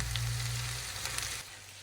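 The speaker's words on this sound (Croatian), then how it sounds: "Sada kad nam se blitva ovako krenula lepo pržiti" Swiss chard and onion fry in a pan with a steady, close sizzle that fades noticeably near the end.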